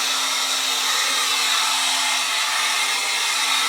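A heat gun blows hot air across a dresser being refinished, making a steady, loud, unbroken hiss with a low hum and no pauses.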